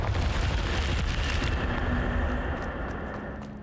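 A Confringo fire spell from Hogwarts Legacy erupts in a loud, sustained fiery blast with a deep rumbling roar that fills the whole moment and slowly tails off, no talking over it.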